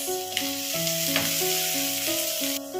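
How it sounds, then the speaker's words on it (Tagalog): Garlic and onion sauté in a pan with a steady, close sizzling hiss, with a few brief stirring clicks and background music playing throughout. "Lagyan na natin ang ating bawang sibuyas."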